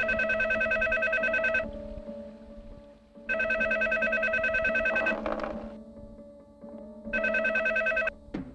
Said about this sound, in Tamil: ரிங் போயிட்டு இருக்கு, எடுக்க மாட்டேங்கிறாரு.